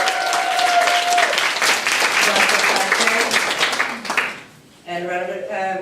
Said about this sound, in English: let's have a round of applause for the wonderful storytellers today